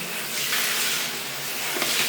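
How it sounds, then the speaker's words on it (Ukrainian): Kitchen tap running during orchid watering, a steady bright hiss of flowing water that lasts the whole short clip, close and moderately loud, with no clear shut-off heard. "Все, виключаю воду."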